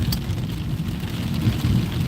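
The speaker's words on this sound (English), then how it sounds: "It's a rainy night in Santa Rosa." Rain falls at night in Santa Rosa, a steady low wash of droplets with a soft rumbling undertone, continuous and fairly close throughout.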